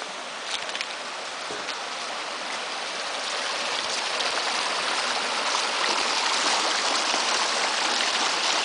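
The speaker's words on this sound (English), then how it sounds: "Nice flowing pump of water." Brook water rushes steadily through a restored stream channel by a bridge, a continuous close and fairly loud splashing flow that swells slightly over time.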